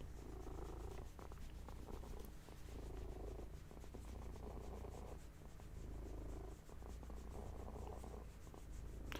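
A cat purring close by, a soft continuous rumbling purr with a steady rhythmic pulse, faint and alone without talk.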